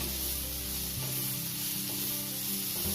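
Koinar saag with chickpeas sizzles and hisses steadily in a pan, with a soft low stirring scrape now and then.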